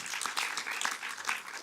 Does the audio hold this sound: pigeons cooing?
no